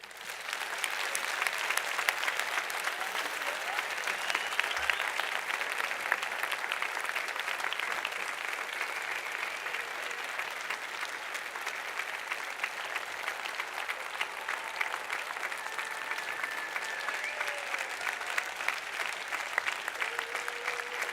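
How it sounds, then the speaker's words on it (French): Long, steady audience applause at a live charity show, even, dense clapping held for around twenty seconds at moderate distance with a faint murmur of voices beneath. "Un tonnerre d'applaudissements pour eux,"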